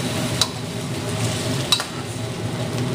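Chicken in black bean sauce is pushed around a hot wok, making a steady sizzle with soft scraping strokes and two sharp metallic clinks of the utensil against the pan.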